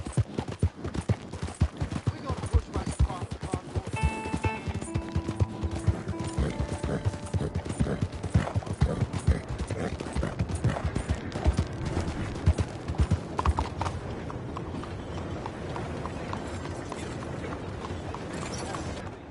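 Steady clip-clop of horse hooves in the video game Red Dead Redemption 2, a dense run of quick hoofbeats close by, with faint background tones and mechanical clatter.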